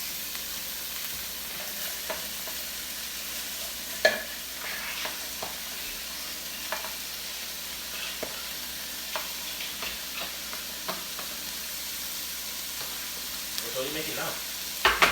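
Egg rolls fry in a pan with a steady, soft sizzle, broken by occasional clicks and light clatter; a voice briefly asks a question.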